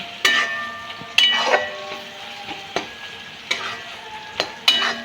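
Chilli being fried in a pan, with a soft sizzle beneath sharp scraping and stirring strokes against the metal, about six distinct close, loud strokes at uneven intervals.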